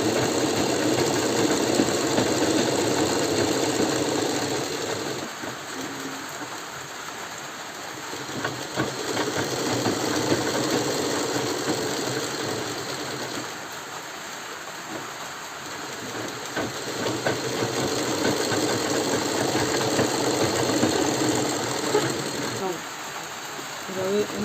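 A sewing machine stitching fabric for a full-sleeve garment gives a steady, loud, close whirring drone that runs almost without a break, swelling and dipping slightly as the stitching speed changes.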